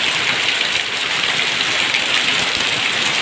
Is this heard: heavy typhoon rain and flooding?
yes